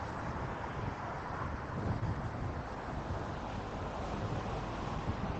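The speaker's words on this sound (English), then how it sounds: "Oh, it's windy" Wind blows across an outdoor microphone during a walk through the Auckland University campus in New Zealand, a steady broadband rushing and rumbling with slight swells and no talk.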